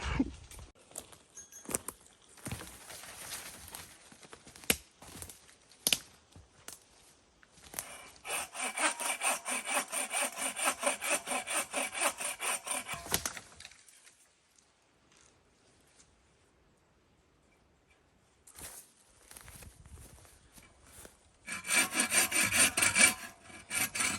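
A hand saw cuts firewood at a campsite in Algonquin Park with rhythmic rasping strokes, first in irregular pulls, then a long steady run, a quiet pause, and another burst of sawing.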